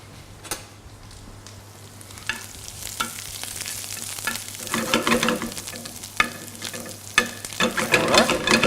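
Chanterelle mushrooms sautéing and being rolled in butter in a pan for a corégone dish, a steady soft sizzle with intermittent stirring clicks and scrapes that grow busier and louder toward the end.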